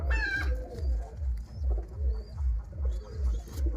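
Pigeons coo steadily and close by, a low throaty rhythm repeating about every half second, with faint higher chirps from other birds overhead.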